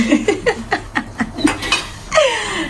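Dishes, pots and pans clatter and clink in a rhythmic series of close knocks, about nine sharp hits, followed by a brief swell of scraping or rinsing at the end.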